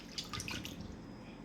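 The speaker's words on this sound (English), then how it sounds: "you're gonna pour that water in there" Water from a 16.9 ounce bottle pours into a bowl while making blackberry dumplings, a soft continuous splashing trickle that runs quietly for about a second and a half.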